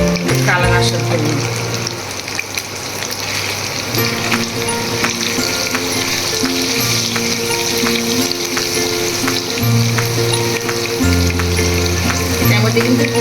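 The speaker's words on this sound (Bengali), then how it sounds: "হালকা করে বাদামি বাদামি করে ভেজে নিতে হবে।" Cubes of paneer fry in hot oil with a little turmeric until lightly browned, giving a loud, steady, dense sizzle that runs unbroken throughout, with faint tonal music underneath.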